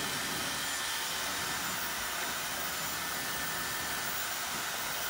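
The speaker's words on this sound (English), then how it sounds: "So still using my blow dryer with no nozzle." A handheld blow dryer with no nozzle attached runs steadily while drying hair during a short layered haircut, a continuous close airy roar with broadband hiss and no pauses.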